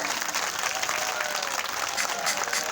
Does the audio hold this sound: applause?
yes